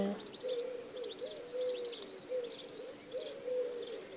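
Birds sing and call at sunrise, with repeated cooing, dove-like notes and scattered higher chirps recurring steadily over a low background, fairly close and without any talk.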